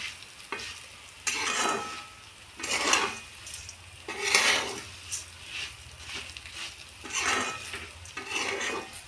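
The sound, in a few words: stirring and roasting puffed rice (bhadang) in a pan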